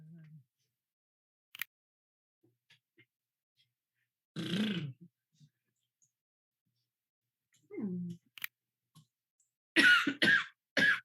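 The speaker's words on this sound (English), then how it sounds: "Gonna be lots of coughing." A few separate coughs and throat-clearing bursts break long stretches of quiet, with a short cluster of harsher coughs near the end.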